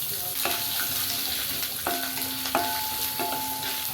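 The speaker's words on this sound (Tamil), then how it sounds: "ஒரு 5 பல்லு பூண்டு தட்டி சேர்த்துக்கலாம்." Crushed garlic fries in a pan with urad dal for a broad bean stir-fry, a steady close sizzle with a few clinks of a utensil stirring through it and no talk.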